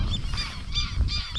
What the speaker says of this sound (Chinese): 这边还有很多大鹅飞走了